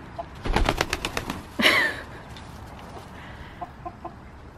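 Backyard chickens, including roosters, cluck in quick, rapid bursts nearby, one squawk rising above, then quieter scattered clucks continue against outdoor background noise.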